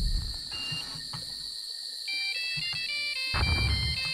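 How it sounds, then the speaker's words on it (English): Phone notification ringtone from the video game Jurassic Park: Operation Genesis, a bright electronic melody of repeated tonal beeps that plays clearly over soft in-game ambience, with no talking. "I love that the notification sound for the phone is now like Eric Kirby's bloody phone."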